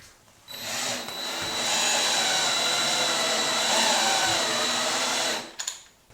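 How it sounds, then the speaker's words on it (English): A power screwdriver drives screws to fix small brackets to a wall, a steady whining motor run lasting about five seconds that starts and stops abruptly, close and loud, with no talking. "Now we just got to screw these little brackets to the wall."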